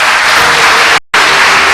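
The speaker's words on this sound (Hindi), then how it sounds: "तालियां नहीं बजेंगी इनके लिए।" Studio audience applauding contestants on a Ramazan TV game show, a loud, dense burst of clapping cut by a brief dropout before resuming just as strongly.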